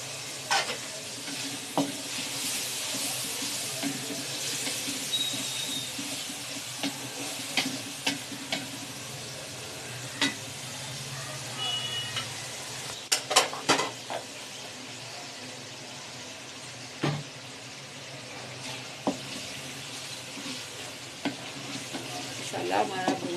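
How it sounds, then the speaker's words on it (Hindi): Masala with minced meat and kachnar buds frying in a pan, a steady moderate sizzle running throughout, punctuated by occasional spoon scrapes and clanks from stirring. "मसाला हमारा भून रहा है।"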